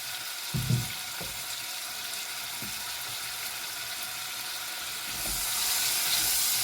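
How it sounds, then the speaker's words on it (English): Garlic and tomatoes hit a hot pan for huevos rancheros, a soft steady sizzle with a few clunks of utensils, the frying hiss swelling a little louder near the end; no one speaks. "Now I'm going to add the garlic and the tomatoes."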